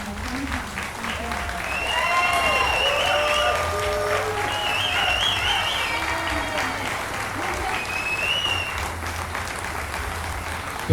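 Sustained audience applause fills the room after a play at Chasco, steady clapping from a crowd with faint voices and whistle-like tones drifting through.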